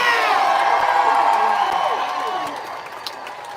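A large crowd at a No Kings protest rally in Indiana cheers and whoops loudly, the roar holding steady and then tapering off toward the end.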